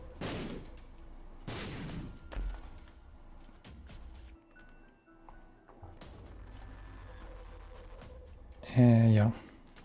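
Bombs explode in the video game The Binding of Isaac: Repentance as a few dull, booming blasts spread out over several seconds, moderately loud among quieter game noises, with a brief bright electronic jingle near the end.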